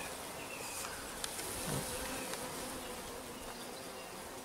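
Honey bees swarming over frames while a hive is split outdoors, a steady dense buzzing drone throughout, fairly faint and close, with no talking.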